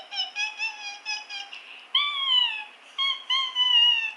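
A pet fox gives high, bright giggling calls while being stroked, first a rapid run of short chirps and then longer wavering squeals, close and fairly soft, with no talk.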